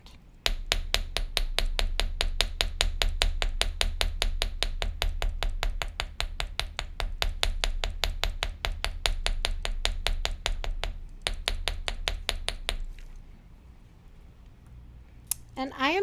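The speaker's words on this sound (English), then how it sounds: "when you're texturing the wire, you don't have to hit it as hard as when you are flattening it. So it's just lighter tapping is sufficient." Light, rapid hammer taps texture jewelry wire during a wire-wrapping demonstration, dozens of sharp metallic strikes in a steady even rhythm, close and clear, pausing briefly before a few last taps.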